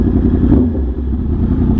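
A Yamaha R1M sportbike fitted with an SC-Project aftermarket exhaust rumbles loudly and close by, its deep engine note swelling briefly then settling into a strong, throaty idle.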